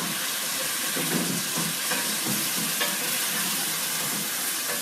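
Cold chicken stock poured into a hot pot holding browned chicken pieces and a little liquid, giving a steady close sizzle and hiss with faint stirring clatter, no talking.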